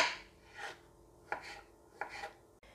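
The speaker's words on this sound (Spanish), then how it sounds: "lo cortamos por la mitad, a su vez otra vez por la mitad y ahora lo hacemos en trocitos bien pequeños" A knife chops a vegetable stem into small pieces on a board, with a few soft, evenly spaced cuts heard up close and quiet.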